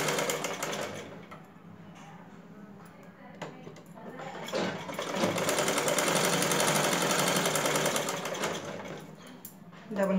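Sewing machine running a double stitch along the joined shoulder seams of a blouse, a steady mechanical whir with brief pauses and a longer continuous run, close and moderately loud.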